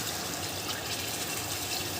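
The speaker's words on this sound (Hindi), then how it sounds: "आधा गिलास इसके अंदर हम पानी ऐड करेंगे" Half a glass of water poured into chicken cooking in a pan, a steady rushing hiss of liquid meeting hot food, continuous and close for two seconds without speech.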